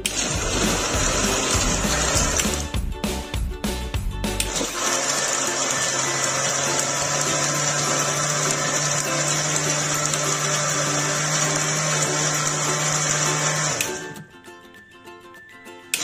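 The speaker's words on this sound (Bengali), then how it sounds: "এখন আমি তরমুজগুলোকে খুব ভালোভাবে ব্লেন্ড করে নিচ্ছি।" A blender blending watermelon with cold water starts with a few bumps and splashes, then runs at a loud, steady whir for about nine seconds before cutting off abruptly.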